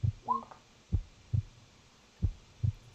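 Heartbeat effect during a tabletop role-playing game session: slow, steady low thumps in paired beats, clear and alone over a faint hum, with a brief tonal chime early on.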